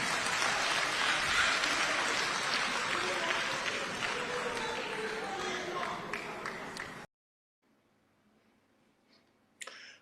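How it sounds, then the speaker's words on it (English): An audience claps in a dense, sustained round of applause with crowd noise and some chatter, fading slightly before cutting to near silence, then a faint click near the end. "why are they clapping"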